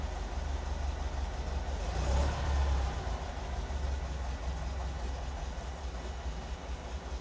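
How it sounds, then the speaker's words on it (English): A car engine idles at a low speed on a cold start with a lean idle mixture, giving a faint, steady low rumble with a slight swell near the middle. "It's just got a low idle, but it does idle even at cold start."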